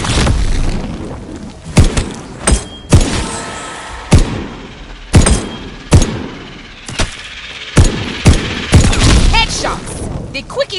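Gunfire in Call of Duty: Vanguard Zombies comes as loud, close booming shots and short bursts spaced through the stretch, mixed with in-game voices talking over the battle.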